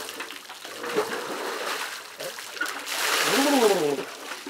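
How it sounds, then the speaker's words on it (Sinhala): Cold well water splashes over someone bathing outdoors, coming in uneven bursts that swell into a heavier splash near the end, with voices talking throughout. "අපේ ළිඳ ළඟ මං හිතන්නේ ආමන්ත මහත්තයා ආපු ගමන් සීතල වතුර නානවා වගේ"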